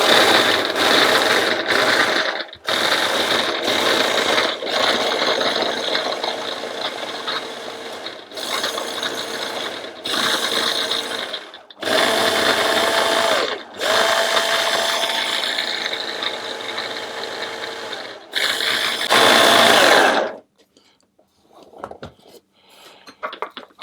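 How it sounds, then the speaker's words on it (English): Food processor chops oats and walnuts in a run of short pulses followed by longer whirring bursts, loud and close, before the motor stops and only faint clatter remains. "I'll pulse them to start with, and then I'll process them until I've got them very fine"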